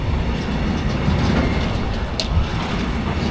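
A freight train rolling past on the rails, a loud, continuous rumble with rhythmic wheel clatter and a brief high screech partway through, close and steady for the whole stretch.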